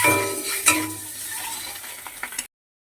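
Duck eggs sizzle in a hot pan while a spatula stirs and scrapes with a few light clinks, frying until browned, then the sound cuts off abruptly.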